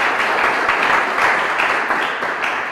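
An audience applauds the four contestants of a general-knowledge quiz show in Lubumbashi, DR Congo, with steady, dense clapping that holds for the whole stretch.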